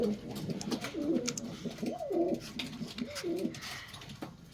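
Ornamental pigeons coo softly on their perches, with several rolling, gurgling calls in a loose rhythm that rise and fall at close range in a quiet room.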